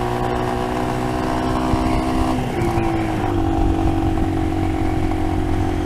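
A motorcycle engine runs loud and close throughout, its steady tone dropping in pitch partway through as the revs change, with no talk over it.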